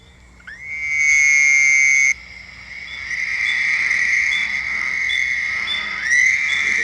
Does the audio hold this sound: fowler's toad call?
yes